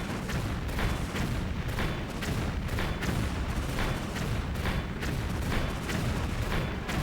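Rocket launcher blasts blow up a raptor nest in Tomb Raider 3, making a dense, continuous barrage of loud booms and bursts that pound in quick succession for several seconds with no voices.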